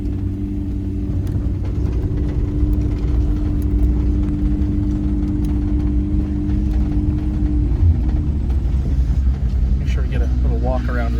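A car engine idles steadily up close with a low, even rumble, its pitch stepping down slightly near the end, while faint handling noises sit over the top.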